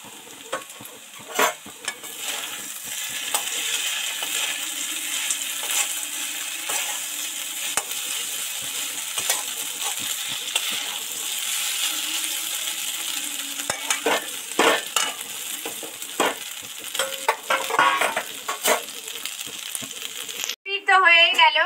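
Fried potatoes with peanuts, chillies and curry leaves being stirred in a hot pan, a steady sizzle broken by scraping and clinking of the spatula, close up, with brief talk near the end.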